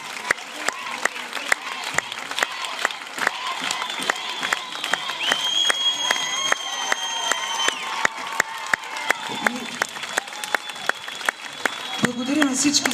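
A hall audience applauds and cheers at a dance competition awards ceremony as a dance club from Pleven is named a winner. Sustained clapping carries sharp, near claps and a few voices calling out over it.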